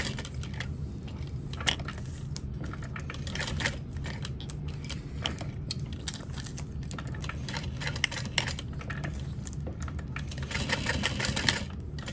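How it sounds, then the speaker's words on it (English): A sewing machine stitches fabric for a small zippered wristlet, a fast rapid clatter running steadily close by with slight pauses and speed changes, fairly quiet and without talk. "and I'll go ahead and sew that"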